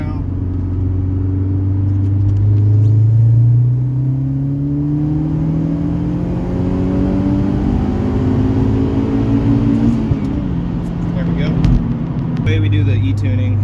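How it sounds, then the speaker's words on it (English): A Mazdaspeed 6 fitted with a bigger turbo pulls hard in third gear at wide open throttle, its engine note climbing steadily and loudly for most of the run before easing off near the end. "Gotta do a third gear pull here for my data log."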